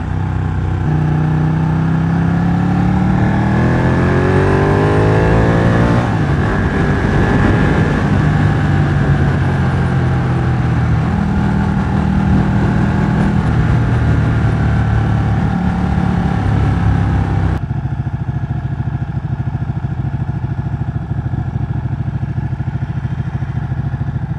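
Ducati 1199 Panigale sportbike accelerating hard along an open road, its engine note climbing through rising revs and gear changes, loud and close with steady wind roar, then settling into a lower cruising drone near the end.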